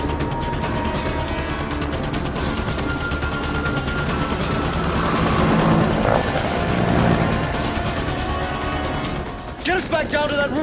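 Helicopter in the video game Dead Rising, a loud continuous mechanical rumble and whir that holds steady beneath talking voices before breaking up near the end.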